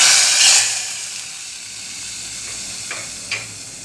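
A loud burst of hot-oil sizzling hisses up at once as hot tempering is poured into a coconut-based mushroom curry, then settles into a softer steady fizz, with a couple of faint clinks near the end.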